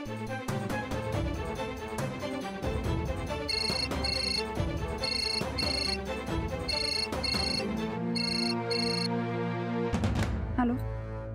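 A telephone ringtone chimes in evenly spaced, repeating bursts during a Marathi TV serial scene, layered over steady background music that swells and fades.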